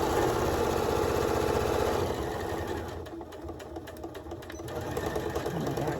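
A sewing machine stitches elastic onto a fabric face mask with a steady, fast mechanical whir. It runs continuously close by, dips briefly partway through, then picks back up.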